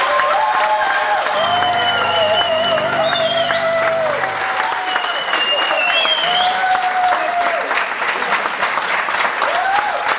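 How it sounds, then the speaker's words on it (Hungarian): Wedding guests applauding the kitchen staff at a Hungarian wedding reception, continuous loud clapping from a crowd filling the whole stretch, with music or tones sounding over it and no talk. "egy nagy tapsot küldjünk a konyhában dolgozóknak!"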